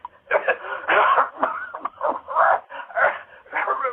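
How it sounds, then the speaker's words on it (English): A man coughs repeatedly in rough, hacking bursts, several coughs in a row with short gaps between them. "That's the bad cough he's got."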